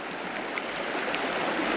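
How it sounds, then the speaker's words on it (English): Fast-flowing river water at a summer trout stream, heard as a continuous, even rushing hiss of current with no voices over it. "I'm in the better part of the fast water now too."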